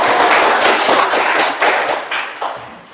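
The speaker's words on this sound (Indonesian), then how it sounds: "kalau sudah pas, ya kita tepuk tangan untuk" A classroom group applauds, a short burst of many hands clapping together that quickly thins out into a few scattered claps, moderately loud and close.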